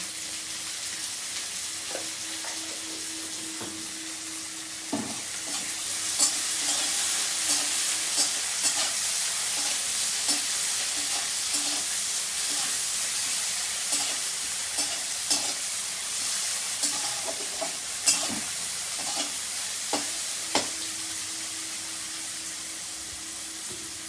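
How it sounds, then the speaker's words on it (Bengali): Onions with salt fry in a pan, a loud, continuous close sizzle with the occasional stir and scrape of a utensil, steady across the whole stretch without any talking. "পেঁয়াজটা লাল লাল করে ভেজে নেবো"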